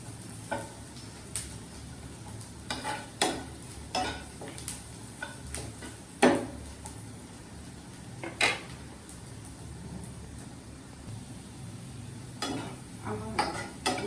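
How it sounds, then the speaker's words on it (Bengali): Chopped garlic fries in a pan as it browns for a lentil dal. A faint sizzle runs underneath scattered sharp taps and scrapes from a stirring utensil. "রসুন কুচি। একটু বাদামি কালার করে ভেজে নিই।"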